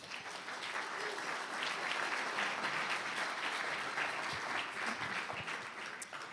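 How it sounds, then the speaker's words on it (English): Sustained audience applause for a family business's staff at a White Castle gathering, a dense, steady wash of many hands clapping at even loudness throughout. "So a round of applause for our staff."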